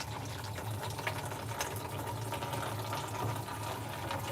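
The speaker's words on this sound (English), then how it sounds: "We'll turn on our water." Tap water pours steadily into a cooking pot, a continuous broadband rush with a low hum underneath, holding even and fairly loud throughout with no talk.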